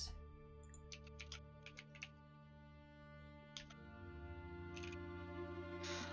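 Computer keyboard keys click softly in scattered, irregular taps over a faint steady hum in a quiet room.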